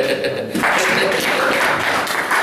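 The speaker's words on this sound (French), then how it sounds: "Acclamation pour le Seigneur" A church congregation breaks into loud, sustained applause for the Lord, the clapping swelling after a brief pause and continuing steadily with voices mixed in.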